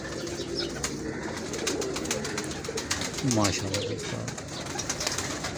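Pigeons coo softly in a low rolling warble amid steady background noise, while someone speaks briefly.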